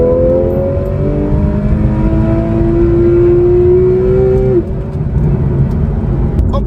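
A Porsche 991 Carrera GTS revs hard with its exhaust valves open: a loud, close engine note climbs steadily in pitch for about four seconds, then cuts off sharply and settles back to a lower idle-like drone. No one speaks.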